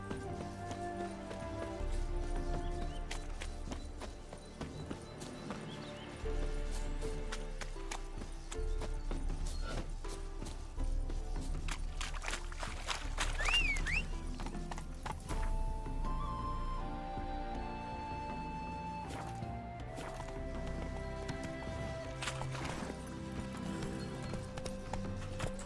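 Horse hooves gallop in Witcher 3, a steady clip-clop running the whole stretch under layered game music, with an occasional brief whinny standing out.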